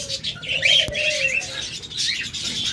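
Caged pet lovebirds and budgerigars in a bird-sale setting chirp and coo in quick overlapping bursts, with one sharp click partway through.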